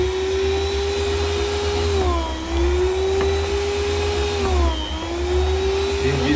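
Esperanza electric slicer cutting smoked sausage-type cheese, a steady close motor whine that dips briefly in pitch twice as the blade meets the cheese, running continuously throughout.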